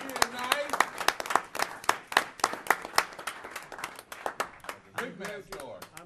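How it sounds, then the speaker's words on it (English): Applause from the audience at a county commission meeting, scattered claps from a modest crowd rising and falling in uneven bursts, with people talking underneath. "I'd like to give Bob a big round of applause for taking care of Commissioner Harper"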